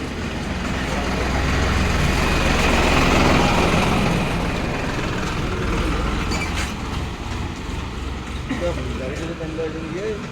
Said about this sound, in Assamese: কিহৰ ট্ৰেক্টৰ আহে?